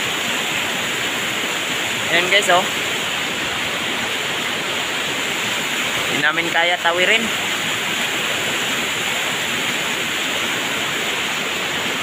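Steady, loud roar of a swollen, fast-flowing river too strong to cross fills the whole stretch, with a couple of brief spoken remarks heard over it.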